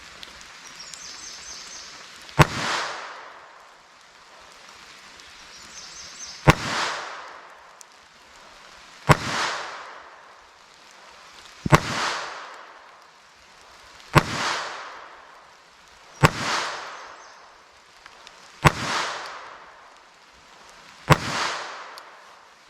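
A new Handcannon pistol fires about eight single shots outdoors, each a sharp loud crack followed by a decaying echo, spaced roughly three seconds apart with quiet in between.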